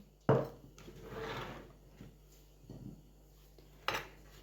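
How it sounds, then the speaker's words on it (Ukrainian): A few sharp knife knocks on a cutting board as an onion is sliced into thin half rings, spaced apart, with soft scraping and handling sounds in between, close up and quiet. "Цибулю буду зараз нарізати напівкільцями"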